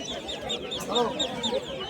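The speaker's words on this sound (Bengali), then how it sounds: "বাচ্চাগুলো কত সুন্দর করে ডাকছে।" High, chirpy peeping from several ducklings repeats throughout, mixed with busy background noise from a crowded outdoor village market.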